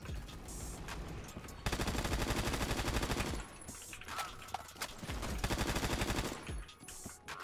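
AKS rifle firing in the Phantom Forces video game: close, loud bursts of rapid automatic fire separated by short pauses, with light footstep-like clatter between volleys.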